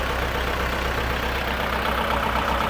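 A Kubota L5018SP tractor from 2021, fitted with a front blade and a six-disc plough, idles with a steady, even diesel rumble, close up and continuous with no voices.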